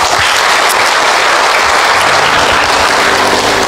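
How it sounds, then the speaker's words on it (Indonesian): A church congregation at a Christmas service applauds the men, a loud, dense burst of clapping from many hands that carries on steadily throughout with no voices over it. "tepuk tangan buat kaum bapak dulu"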